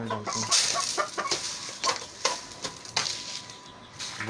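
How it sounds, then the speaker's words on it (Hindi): A rooster and hens cluck and squawk in bursts close by while being thrown grain at feeding time, with sharp repeated calls and scuffling between them. "ये एक हमारे पास मुर्गा है, मुर्गी है, इनको जल्दी से डालते दाना,"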